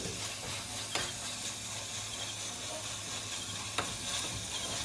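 Food sautéing in a pan while it is stirred, with a continuous broad sizzle and an occasional sharp scrape or clack of the utensil against the pan, close, with no talking.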